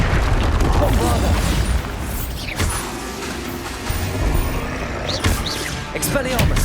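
Bombarda explosion spells from Hogwarts Legacy on PS5 go off in a dense, loud rumble of repeated booms and crashing debris, layered with continuous combat effects and no clear pauses.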